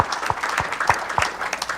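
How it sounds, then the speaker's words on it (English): Audience at a 2018 conference media panel session applauding a speaker, a lively burst of many hands clapping with a few sharper claps standing out near the front. "Round of applause for Dan"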